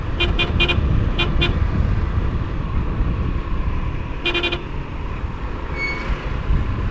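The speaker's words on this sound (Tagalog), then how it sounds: "Grabe naman ang paka-traffic dito." Congested street traffic rumbles from a motorbike ride, while car horns toot in quick clusters of short beeps, first a rapid run of honks and later another burst, over constant engine noise.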